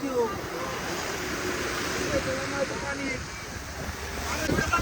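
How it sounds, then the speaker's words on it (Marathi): Floodwater rushes over the Pune-Solapur highway after heavy rain, a continuous loud roaring wash with wind buffeting the microphone, while excited voices shout over it. "अख्खा हो हो हो दादा पाणी बघ हो, कसलं वाहतंय पाणी डेंजर."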